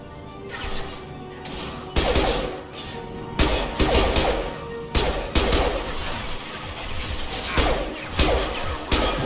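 Heavy impact-shot weapon blasts in Mass Effect 2, a series of loud booming hits roughly every second or two, each with a crashing decay, close and dominant over a dense combat background.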